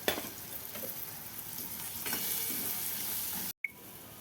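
Spices sizzle steadily in a hot pan as green peas are tipped in and stirred for Maharashtrian ulta vada pav, a continuous close frying hiss with a brief cut near the end.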